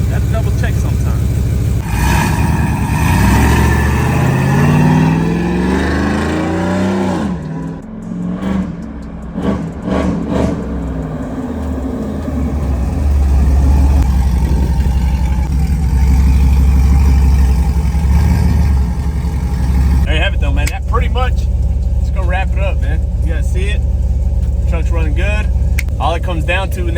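A single-cab truck engine being test-fitted with a turbo runs close by, its steady rumble rising and falling through revs over most of the stretch, with someone talking over it.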